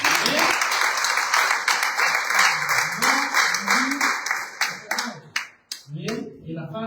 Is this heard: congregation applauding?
yes